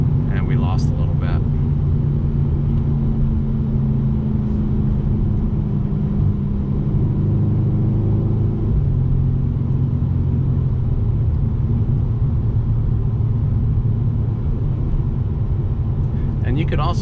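A 2021 Mercedes AMG C63s coupe accelerating hard through second gear, with a loud, steady, droning engine roar heard from inside the cabin that shifts pitch partway through.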